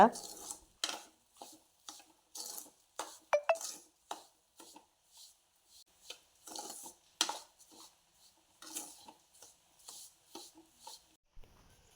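Grated coconut and semolina being stir-fried in a pan for rava laddu, with a spatula scraping and knocking against the pan in a steady, irregular rhythm of short, close strokes, and no talking.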